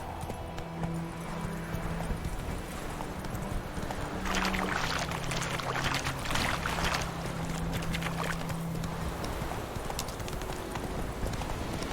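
A horse gallops in The Witcher 3, with rapid, steady hoofbeats close up over game ambience and a brief tonal hum, continuing throughout without speech.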